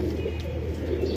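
Soft, low cooing of breeding pigeons close by, a muffled throaty murmur over a steady background hum.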